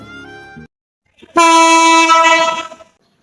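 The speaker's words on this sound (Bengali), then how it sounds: "পরে ট্রেন আসা পড়তেছে, এখন ট্রেনে উঠবো।" A loud, sustained train horn blast sounds close by at a station as a train arrives, preceded by a shorter, quieter horn toot and a brief gap of silence.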